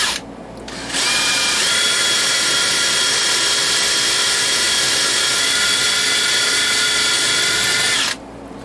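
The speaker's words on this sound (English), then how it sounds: "I drill straight down right here into this part right here" A power drill whirs steadily at high speed for about seven seconds, loud and close, drilling down into a knob, then stops.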